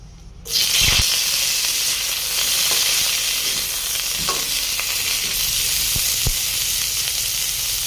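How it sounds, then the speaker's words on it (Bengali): Cauliflower drops into hot white oil and ghee with a sudden loud sizzle about half a second in, then a steady close frying hiss follows, broken by a few sharp stirring clicks. "তেল আর ঘি গরম হয়ে গেছে, এবার ফুলকপিটা"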